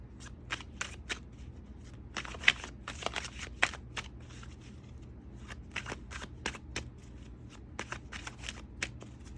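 A deck of tarot cards being shuffled up close: repeated crisp riffling bursts and soft flicks, with no talking.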